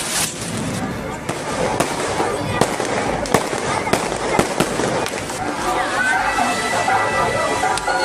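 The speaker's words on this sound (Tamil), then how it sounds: "இரவில் வானை வண்ணமயமாக்கிய வான வேடிக்கையை கண்டு ரசித்த மக்கள்" Fireworks bursting in the night sky at a Kanduri festival, a dense run of loud cracks and popping bangs over a continuous crackle, with crowd chatter and a voice speaking throughout.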